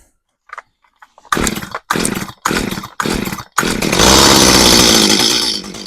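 A Stihl MS211 chainsaw, choked and fed two-stroke fuel after carburetor cleaning, catches in several short sputtering bursts, then fires and runs in a loud continuous close-up roar.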